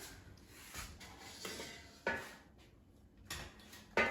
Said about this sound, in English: Let me take it out of the air fryer.